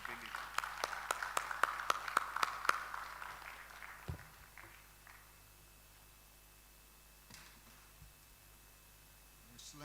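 A round of applause at the twenty-eighth session of a formal meeting: a quick, evenly spaced run of sharp claps for about three seconds, then fading to scattered faint taps over a quiet room with low hum.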